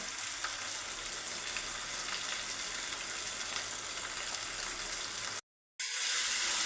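Ginger garlic paste frying in a pan, a steady close hissing sizzle that cuts out briefly near the end before resuming.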